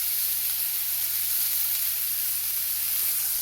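A sirloin steak about two centimetres thick sizzles in a frying pan, giving a constant, even hiss and crackle close by that never lets up, with no voices.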